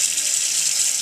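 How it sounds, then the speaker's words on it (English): Warm tap water runs steadily and close over hands being rinsed at a sink, a bright, hissing continuous flow without any talking. "just rinsed back off with some warm water"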